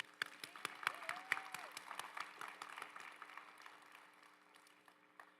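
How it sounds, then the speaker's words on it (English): Faint, thin applause from an audience at a Latinx graduation recognition ceremony, with scattered individual claps that taper off over a few seconds against a low steady hum. "Round of applause for ALPS"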